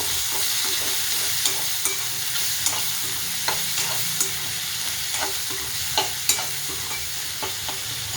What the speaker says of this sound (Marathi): एक मोठ्या आकाराचा टमाटा घेतलेला आहे, तो पण टाकून घेते. तेलामध्ये एकजीव करते.